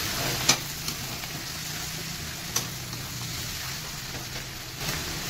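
Ground ginger-garlic paste sizzles in hot oil for a taro and prawn chorchori, a steady dense frying hiss with a couple of sharp pops, close and continuous without speech.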